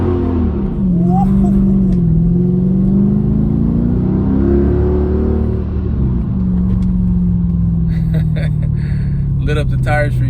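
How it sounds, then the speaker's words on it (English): A Mercedes C55 AMG with a custom exhaust launches with ESP off and spins its tires, a loud, continuous engine roar rising and falling in pitch for about ten seconds, with tire noise near the end. "Lit up the tires for you guys right there."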